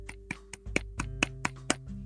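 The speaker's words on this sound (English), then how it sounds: "I was clapping." A single person claps hands in a slow, uneven series of about nine sharp, fairly soft claps over a steady low hum, with no talking.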